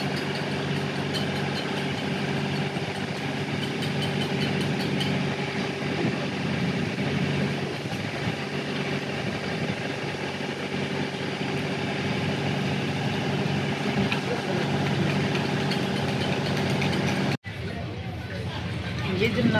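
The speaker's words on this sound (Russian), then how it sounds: "Едем на маленьком трамвайчике. Едем по порту, чтобы не идти пешком." A small tram carries riders through the Royal Naval Dockyard port in Bermuda, its engine holding a steady idling hum for the whole ride while voices murmur faintly beneath, ending in a brief cutout.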